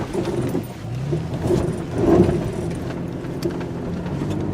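A 2017 Toyota 4Runner with TRD off-road suspension drives over bumpy ground, giving a steady, close cabin rumble with soft knocks and rattles from the suspension absorbing the bumps.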